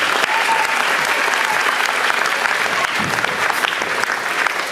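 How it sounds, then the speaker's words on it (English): A school concert audience applauds the track athletes at a spring band and vocal concert, with dense, loud, steady clapping filling the hall throughout. "Give the track athletes a round of applause."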